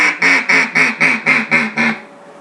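Hand-blown duck call giving a comeback call: seven quick, evenly spaced nasal quacks in a falling run, close and loud, with no talk.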